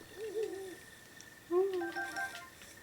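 An owl character in the video game Breath of the Wild gives soft, tonal hoots, one short call and then a longer, stronger series, over a quiet ambient background.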